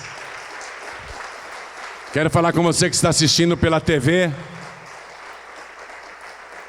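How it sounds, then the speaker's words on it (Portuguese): A church congregation's applause keeps up as a continuous background wash, while a voice speaks loudly over it for a couple of seconds in the middle. "Vamos aplaudir mais."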